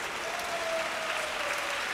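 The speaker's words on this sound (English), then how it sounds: "Applause from the crowd" A crowd at a table tennis match breaks into steady, dense applause, close and sustained throughout the brief moment.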